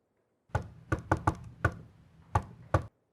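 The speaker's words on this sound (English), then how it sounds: "That's a rap on the door." Seven sharp knocks on a door in an uneven rhythm, close and clear, with silence before and after.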